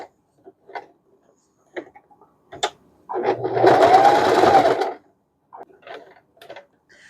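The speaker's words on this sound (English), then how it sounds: "I'm just going to use a straight stitch and go all the way around the edge of the muzzle to attach it to the doll." A home sewing machine runs a straight stitch around the edge of a fabric muzzle on a cat or dog doll, a close, steady whirring burst of about two seconds between quiet clicks and handling sounds.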